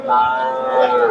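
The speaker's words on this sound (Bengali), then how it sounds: "এ যে গাভী আর এটা বাচ্চা" A dairy cow with her calf at a large cattle market in Sirajganj district lets out a single loud, close moo lasting about a second.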